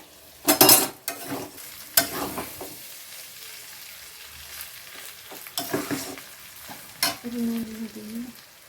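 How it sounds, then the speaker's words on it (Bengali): Chow mein stir-fried in a pan with vegetables, potato and egg: a steady sizzle broken by several sharp scraping strokes of a spatula against the pan. "ভেজে নিতে হবে ডিমটা মিশে গেছে সবজির সাথে এবারে হালকা হালকা করে চাউমিনগুলো দেওয়া হবে"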